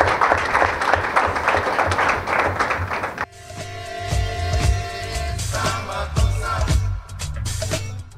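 Audience applause at the DNS Forum 2018 in Benin for the organizing committee: dense, sustained clapping from a crowd in a hall for about three seconds, then giving way to scattered sounds and background noise.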